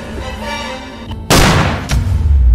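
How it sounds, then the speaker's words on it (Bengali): A cartoon gunshot cracks out sharp and loud, followed by a heavy booming rumble that lingers, after a quieter stretch of background tone. "এবার আর আমার গুলি মিস হবে না"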